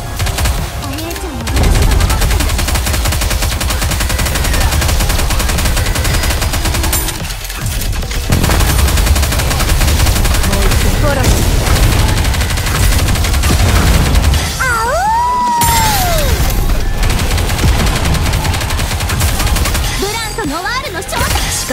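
Dense, loud volley gunfire in the video game Goddess of Victory: NIKKE during a boss fight, continuous rapid bursts with brief pauses, layered with whooshing effects and voices speaking over the shooting.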